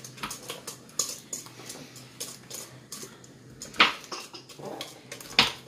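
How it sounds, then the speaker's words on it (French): Brownie batter gets stirred in a bowl, giving a run of light scraping and clinking of a utensil against the sides, with two sharper knocks standing out near the end; fairly quiet, with no talk. "Je remue."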